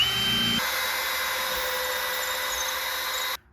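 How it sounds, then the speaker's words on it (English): A power drill whirs steadily into wood, drilling a pilot hole for screws in a garden bed, a continuous high motor whine lasting a few seconds before cutting off abruptly. "we're going to drill a pilot hole before we drill the screws in."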